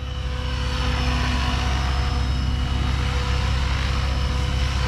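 A helicopter hovering in a tight area, its engine and rotor giving a steady, loud, unbroken drone throughout with no talking.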